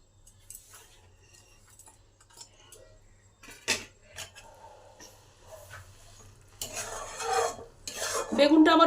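A spatula mashes and scrapes roasted eggplant with coriander leaves in a pan to dry it, giving scattered clinks and taps that build into busier scraping and sizzling toward the end.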